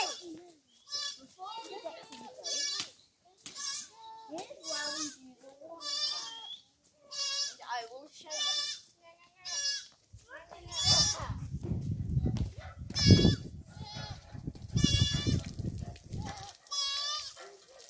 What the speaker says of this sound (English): And now, let me show you where the goats are.